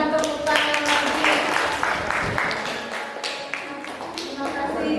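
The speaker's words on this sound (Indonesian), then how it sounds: "boleh berikan tepuk tangan lagi" Classroom applause from students after a group presentation, a short burst of uneven clapping with individual hand claps standing out, mixed with some voices and room noise.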